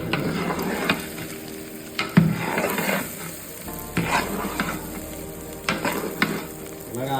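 A coconut masala base for Godavari-style prawn biryani fries in hot oil with a close, steady sizzle. Intermittent stirring scrapes and a few knocks of utensils on the pot sound against it, and no one speaks.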